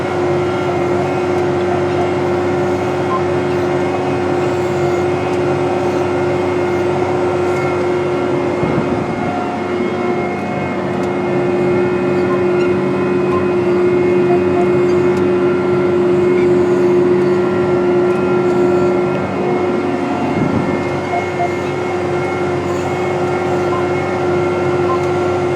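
John Deere 9370R tractor seeding wheat in open fields, a loud, steady engine drone with a constant low hum and tonal whine that barely changes throughout, heard from inside or close to the machine.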